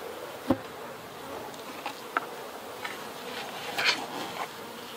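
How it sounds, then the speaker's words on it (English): Bees buzzing in and around a mostly empty beehive box, a steady soft insect hum close by with a few brief louder buzzes as individual bees pass near. "There are some bees up in this box"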